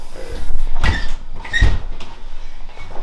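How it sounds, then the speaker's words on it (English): A big door swings shut with a dull thud and a short creak, then a second knock-like thump as it is locked, close and fairly loud against room noise. "Close this big door and lock it."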